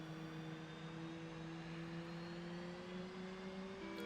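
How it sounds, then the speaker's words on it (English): Steady jet engine whine with sustained tonal hum from an F/A-18C in a flight simulator, slowly rising in pitch as the engines spool up during startup, continuous with no voices. "we're waiting for these engines to spool to 60"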